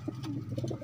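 A young pigeon held in hand cooing softly, a low, faint, brief murmur close by, with light background noise.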